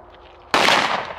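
A single loud gunshot cracks out after a quiet pause at an outdoor shooting range, its blast ringing and decaying over the following moment with no talk over it.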